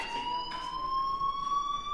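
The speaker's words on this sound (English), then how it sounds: "do you hear that fire alarm? That means you should be outside." A fire alarm rings in the video game Life is Strange, giving off a steady, piercing electronic tone with a slowly rising pitch. It sounds continuously and fairly loud over low background hum, with no talking.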